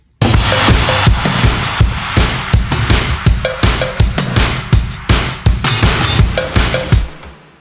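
Drum tracks from a production session for a song: a loud, tight kit with punchy kicks and crisp snares in a steady driving beat, with dense cymbal wash throughout, close and without voices.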